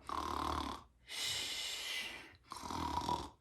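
A voice imitates snoring: three long, rasping breaths in a slow rhythm, each loud snort separated by a short pause, close and quiet overall.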